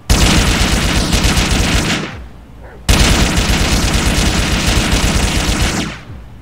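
Loud M4 assault rifle fire from the GTA IV video game, two sustained full-auto bursts of about two seconds each with a short gap between them, dense and booming, with no other sound.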